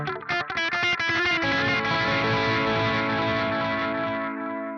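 Electric guitar through the Neural DSP Archetype Plini X pre-delay effect in mono: a few quick picked notes, then a sustained ringing chord whose delayed repeats smear and slowly decay, with no voice.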